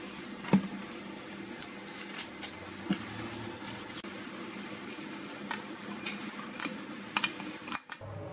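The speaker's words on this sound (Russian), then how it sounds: "Перемешиваем" Soft scraping and clinking of a utensil against a pot of mushroom soup, irregular stirring with occasional sharper taps, fairly quiet and close.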